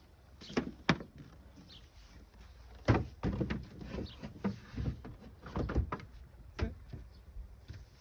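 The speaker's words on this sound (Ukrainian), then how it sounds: "Наверх ставимо підкришник і закриваємо все дахом." Wooden inner cover and roof set down onto a Ukrainian-style beehive with a super, giving a series of close, hollow knocks and thumps with short scraping and rustling between them.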